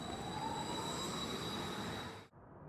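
A tram pulls away with a steady, loud rumble and a rising electric motor whine, the noise cutting off abruptly near the end.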